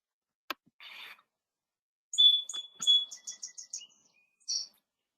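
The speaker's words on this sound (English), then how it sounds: "Or maybe you have song sparrows in your yard who remind you each morning to please, please, please put on your tea," A song sparrow in a backyard sings a bright, fairly faint song: a few isolated clicks and a buzzy note, then a crisp sharp whistle, a run of quick repeated trilled notes, and a final chirp.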